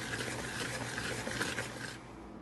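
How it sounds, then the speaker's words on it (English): A whisk stirs flour, baking soda and salt together in a bowl, a soft continuous scraping and swishing heard close and quiet for a couple of seconds. "Now we're whisking all the dry ingredients together until combined"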